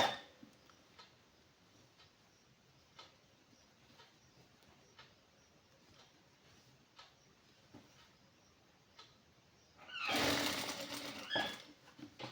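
A sewing machine stitches a khaddar silk shirt in one fast, loud burst of mechanical whirring near the end, after a long stretch of quiet ticking and faint handling noise.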